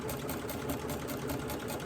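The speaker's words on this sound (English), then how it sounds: "I'm sitting here quilting, so I'm happy." A sewing machine fitted with a walking foot quilting a batik quilt, a fast, even, close mechanical stitching rhythm that runs without a break.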